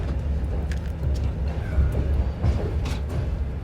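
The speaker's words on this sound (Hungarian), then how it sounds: "Pontosan indul a vonat, Bukarest Nord 8. vágányáról." Night train pulling out of platform 8 at Bucharest Nord, a Moldovan sleeper service bound for Chișinău, heard as a steady low rumble and rolling clatter from inside the carriage, with faint higher squeals drifting over the continuous drone.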